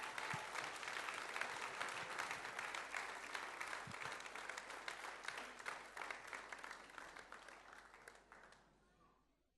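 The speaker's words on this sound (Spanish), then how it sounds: "Denle un fuerte aplauso al Señor por eso." A church congregation applauds loudly during a Spanish-language sermon, dense sustained clapping that holds steady for most of the stretch before fading out near the end.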